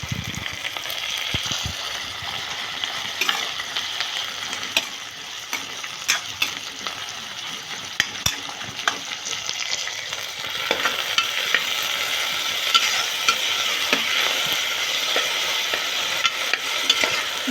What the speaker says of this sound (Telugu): ఇందులో మేథీ లీవ్స్, దీంట్లో హాఫ్ అండ్ దీంట్లో హాఫ్, వీటిని కూడా నూనెలో బాగా ఫ్రై చేసుకోవాలి